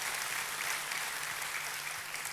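A church congregation claps in sustained, dense applause that fills the space evenly and steadily from start to finish, with no voices standing out.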